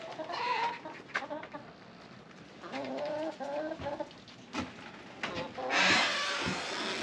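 A flock of chickens clucks inside a backyard coop, a hen's close, bursty clucks and squawks coming in short irregular runs over quieter background birds, with a louder flurry near the end.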